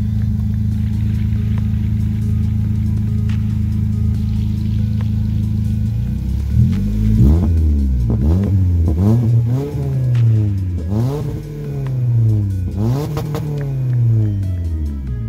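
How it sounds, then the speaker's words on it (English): A Toyota Corolla 2.0L with a muffler-delete exhaust settles from a loud idle into a series of sharp revs. Each one climbs quickly to the rev limiter and drops back again, repeated about half a dozen times, close and loud. "Gotta love the rev limiter."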